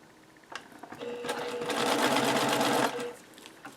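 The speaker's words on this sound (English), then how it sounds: "this is sewing right through the Velcro" A sewing machine stitching through Velcro to seal fabric edges, a close, steady mechanical whirr that starts after a few clicks and runs for about two seconds before stopping.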